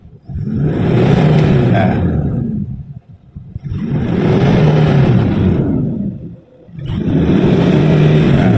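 A Toyota Vigo 3.0 pickup engine with four P-SAVE units installed revs hard three times, each loud roaring burst lasting a couple of seconds before dropping back to idle.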